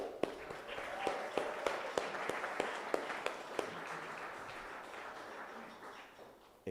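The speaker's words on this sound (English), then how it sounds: "so a well-earned round of applause" An audience at a games industry talk event in Glasgow gives a round of applause, scattered individual claps standing out early over a broad wash of clapping that gradually fades away.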